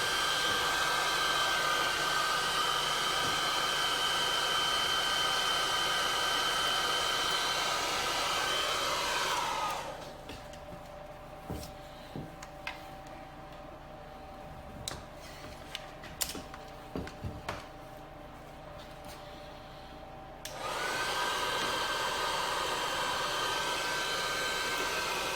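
A heat gun blows hot air over a car badge logo during a repair, a steady broadband whoosh that stops for about ten seconds midway, leaving small clicks and handling noises, then starts again.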